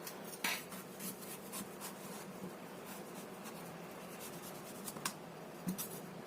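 A knife scrapes and peels the skin from a chayote in a quiet kitchen, with soft, irregular scratching strokes and a few brief clicks of the blade.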